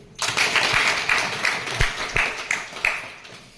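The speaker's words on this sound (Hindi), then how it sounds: "और मैं चाहती हूँ अपने अपने खुशी के लिए एक बार जोरदार ताली।" A gathering at a welfare foundation event answers with a burst of applause, a moderately loud wash of clapping hands with a few sharper claps standing out, lasting a few seconds.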